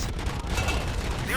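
Dense, rapid gunfire in the RoboCop: Rogue City game rattles as a continuous fusillade, loud and close, with rumbling low booms underneath and no clear pause.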